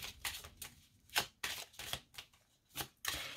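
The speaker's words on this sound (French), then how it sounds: "Je vais sortir 2 cartes." Tarot cards handled and drawn from a deck, with a steady series of soft flicking, sliding slaps about every half second, close and quiet, no talking.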